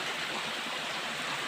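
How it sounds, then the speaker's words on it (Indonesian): An underground river rushes through a natural cave passage, a dense, continuous hiss of flowing water that stays loud and close throughout, with no talking. "Ini sungai bawah tanah, Mas."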